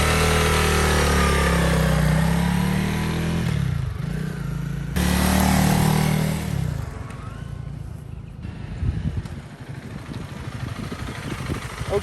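A 2021 Honda CRF300L Rally single-cylinder motorcycle engine drones steadily while riding, rising and falling with throttle, then settles into a rougher, lower-pitched running beat over wind noise.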